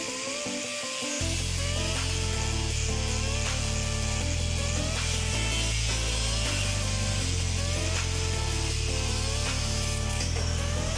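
A piece of cold rolled steel cut slowly in a workshop while making snare drum lugs: a loud, continuous metallic grinding drone with regular stroke-like pulses about every second, and no talking.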